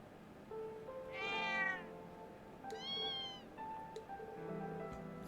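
A mother cat in the Trails of Cold Steel II video game gives two drawn-out, clear meows over a low steady background hum, then a softer trailing call.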